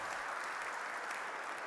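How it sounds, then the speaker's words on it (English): Faint, brief clapping from a gentleman in the audience at a conference opening session, a soft, even patter lasting under two seconds. "I can see the gentleman clapping."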